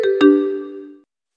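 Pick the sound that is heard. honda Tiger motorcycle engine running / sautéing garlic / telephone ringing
telephone ringing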